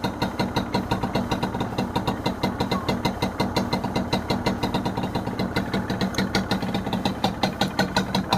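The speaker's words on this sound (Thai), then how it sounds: "ฟังเสียงกัน เดี๋ยวฟิดสตาร์ทติดง่ายครับ" An original factory-condition Honda NSR motorcycle idles after a kick start, its engine a close, steady, rapid pulsing with an even rhythm throughout, no voices over it.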